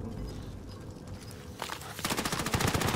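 Gunfire in Call of Duty: Modern Warfare starts as faint, scattered shots and builds into a loud, rapid automatic burst of evenly spaced reports during the last second, with no talk over it.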